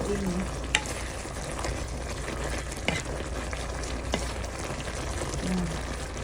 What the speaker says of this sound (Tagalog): Pwede na natin siyang haluin.